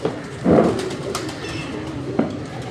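Pigeons on a rooftop in Karachi give a soft, low cooing call, one close murmuring coo followed later by a fainter one over light background noise.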